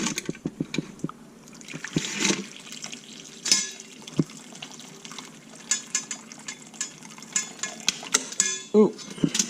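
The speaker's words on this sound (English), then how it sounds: "we're just going to pour them into the ice bath" Steamed clams poured from a pot into an ice bath, with irregular splashing, clinking of metal cookware and sloshing water in a close kitchen setting, plus scattered brief knocks.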